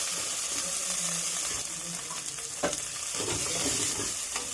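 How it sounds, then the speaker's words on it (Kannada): Ginger garlic paste with mint and green chillies frying in a pan for chilli chicken, giving a steady close sizzle with occasional stirring scrapes and a brief clatter near the middle. "ಚೆನ್ನಾಗಿ ಫ್ರೈ ಮಾಡ್ಕೊಬೇಕು."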